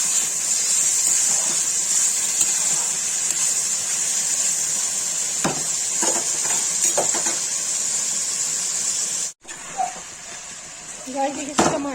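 Onions with salt and garam masala sizzle in a pan with a steady, bright hiss, and a few soft clinks from stirring can be heard near the end.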